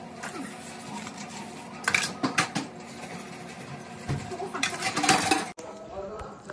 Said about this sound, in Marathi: भांडे घासते मग येते रिटर्न